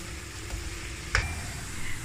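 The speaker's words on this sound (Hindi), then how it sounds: "ऑयल गर्म हो चुका है, अब इसके अंदर हम करेले डाल देंगे।" Bitter gourd slices frying in hot oil in a home kitchen: a steady, close sizzle and crackle that continues throughout, with one sharper spatter partway through and no talking.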